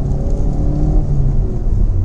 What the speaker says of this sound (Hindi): थोड़ा सा एक्सीलेटर करके देख लेते हैं गाड़ी को